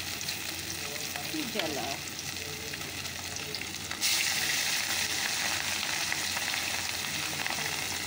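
Food frying in a pan with a steady broadband sizzle that grows louder partway through, as if something new hits the hot oil, with stirring and a brief spoken remark.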